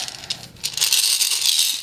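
Assorted gumballs pour into an automatic candy dispenser, a close hard rattling cascade of small balls that starts in scattered clicks and swells into a steady clatter.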